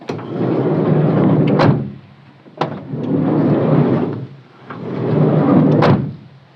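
A car's sliding side door, fitted with a new door roller repair kit, is rolled shut and open three times, each a rumbling slide ending in a sharp latch thud, close and loud.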